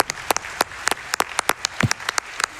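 Audience applause at an Awesome Games Done Quick 2026 speedrunning event after a Hollow Knight: Silksong run, a broad crowd of claps with sharp individual hand claps standing out, steady and sustained, with no talking.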